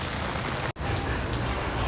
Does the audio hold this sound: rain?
yes